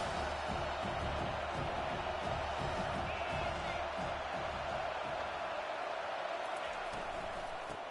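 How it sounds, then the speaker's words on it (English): A packed college football stadium crowd cheers on third down, a loud, sustained roar with a commentator talking over it. "this crowd is tearing the lid off this place"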